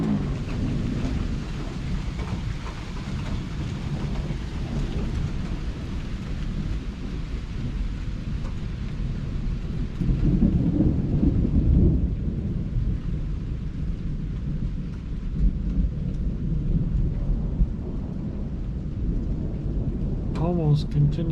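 A big thunderstorm on an evening in Southeast Michigan brings heavy, nearly continuous rumbling thunder over steady rain, with deep rolling swells and no break throughout.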